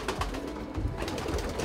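A racing pigeon coos in an aviary, soft low rolling calls repeated a few times close by against light background noise.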